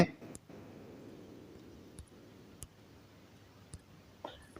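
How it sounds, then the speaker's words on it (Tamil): A landline number is typed on a computer keyboard in a handful of sparse, separate key clicks over a quiet room background, with faint speech in the room. "உங்கள் லேண்ட்லைன் நம்பரை வந்து நீங்கள் டைப் பண்ணிக்கங்க"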